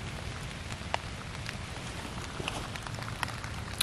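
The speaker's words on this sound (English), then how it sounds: "And here comes the rain again." Rain patters down in the woods, a constant close hiss with scattered sharper drops striking nearby surfaces, and no voices over it.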